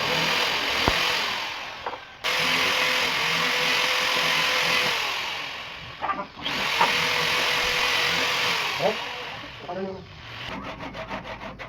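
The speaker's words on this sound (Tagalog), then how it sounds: "kumuha na din tayo ng drill at ito ang ating gagamitin natin pagbukas" A power drill bores holes through a wooden replacement handle for a hand saw, a steady rasping drone running for a couple of seconds at a time, broken by short pauses and a closing burst of rapid ticking.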